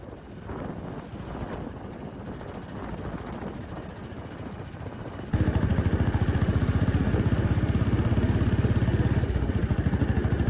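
Motorcycle ridden on the hill road to Mussoorie, a continuous engine drone mixed with wind buffeting, growing louder and steadier partway through as the bike picks up speed, with no talking.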